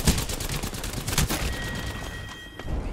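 Rapid bursts of automatic gunfire in the battle-royale shooter Apex Legends, loud and close, with volleys repeating across the span and no talk over them.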